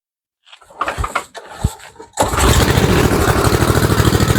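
A Tecumseh Snow King engine, freshly given a rebuilt carburetor, is started with the key on and throttle at half. It coughs and sputters through a few attempts, then catches and settles into a loud, steady, close running chatter.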